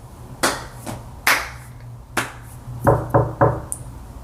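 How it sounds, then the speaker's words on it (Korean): Hands clap three times in quick succession, close and crisp, after a few scattered sharp raps in an otherwise quiet room. "박수를 3번 쳤죠?"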